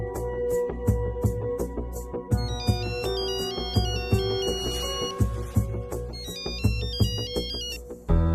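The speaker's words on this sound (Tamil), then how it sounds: "போன் அடிச்சா எடுக்கவே மாட்டேங்கிறீங்களே" A mobile phone plays a melodic electronic ringtone over a rhythmic, plucky beat with bright, high chiming phrases that rise and fall, running steadily for several seconds at a moderate volume.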